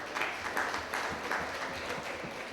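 A town hall meeting audience in Portland gives steady, moderately distant applause, a continuous patter of many hands clapping without pause.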